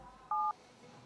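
A single short keypad tone sounds as a telephone number is dialed. The beep is clear and steady, set against quiet room background.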